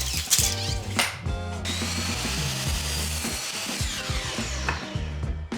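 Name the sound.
screws being fastened into the top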